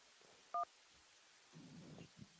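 A radio show phone line connects a call with a single short, bright dual-tone beep, followed by faint line noise and low rustling.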